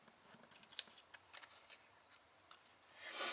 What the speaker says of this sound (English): I'm going to go ahead and cut it at the waistline